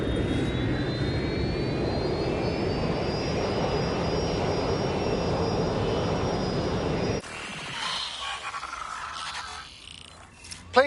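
An airplane in a video game drones on with a steady, loud engine roar and rising whine for several seconds, then cuts abruptly to quieter scattered noises.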